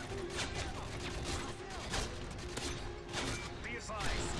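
Rapid gunfire bursts from a chaotic first-person shooter game, continuous and loud, overlapping explosions and mechanical clatter, with a voice talking over it.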